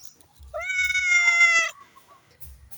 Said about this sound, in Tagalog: ano ba itong pusa na ito?